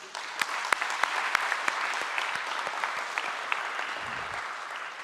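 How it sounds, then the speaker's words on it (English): Audience applause at a municipal bond listing ceremony, a steady wash of many hands clapping with sharper individual claps standing out, moderately loud and sustained throughout. "So let us hear a resounding of claps for them."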